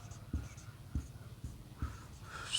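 Writing on a board during an English grammar class, a series of four or five soft evenly spaced taps and strokes close by, with no talking.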